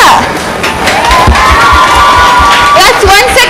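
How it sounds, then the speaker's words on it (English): A school audience at a Christmas talent show cheers and whoops loudly, with children shouting over a dense crowd roar that holds steady for a few seconds. "Let's once again give a big round of applause to our judges!"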